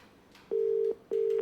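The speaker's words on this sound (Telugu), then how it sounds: "రాహుల్ రామకృష్ణ ఫోన్ రింగ్ అవుతుంది" Ringback tone of an outgoing phone call: two steady electronic beeps separated by a short gap, clean and isolated with no talking.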